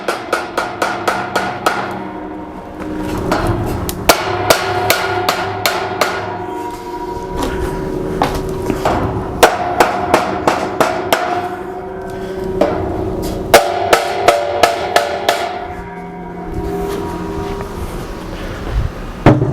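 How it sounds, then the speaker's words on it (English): A rubber mallet hammers while garage shelving is assembled, making loud, sharp knocks in quick bursts of several blows separated by short pauses throughout, close up and with no talking. "I got your trusty rubber mallet."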